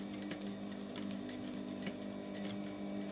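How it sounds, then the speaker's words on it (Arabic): A sewing machine stitches fabric in a steady, fast mechanical hum with a faint ticking rhythm, close and alone with no talk, for about three seconds. "بقاو دوزو الماكينة غير بيديكم حتى تفوتو العقيق"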